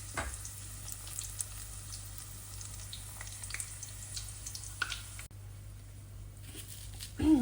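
Chopped onion frying in hot oil in a pan, a steady soft sizzle and crackle with a low hum beneath, close by, with a faint stir or clatter near the end and no talk.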